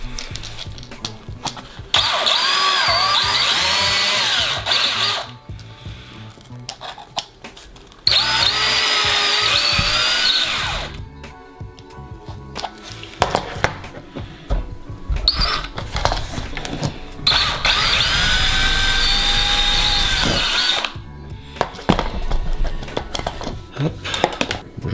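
Milwaukee power drill re-boring holes in a starter box for a 1/8 buggy, several loud whirring bursts of a few seconds each separated by pauses, close up, with light handling clatter between runs.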